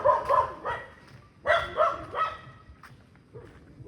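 A dog near a temple barks in two bursts of two or three sharp, close barks each, with a short pause between and fainter yips trailing off at the end.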